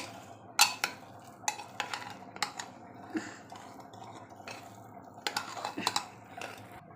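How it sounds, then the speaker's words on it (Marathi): A spoon churns moong dal and rice khichdi made with Malvani masala in an opened pressure cooker, with repeated metallic clinks and scrapes on the pot rim and soft wet squelches between them, close and with no talking. "आता व्यवस्थित ढवळून घेणार आहे"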